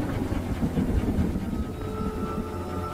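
A train in a video game rumbles and clatters steadily, with a thin high whine running through it; no one speaks.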